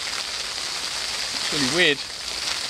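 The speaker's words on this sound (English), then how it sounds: "Now it switched to hail again." Hail falls outdoors at a carp-fishing lake on a February day, a steady dense patter throughout, and someone speaks briefly in the middle.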